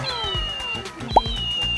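A single short meow pops out amid the background clatter of a large ukay-ukay thrift shop in Cubao, with a thin steady whine running underneath.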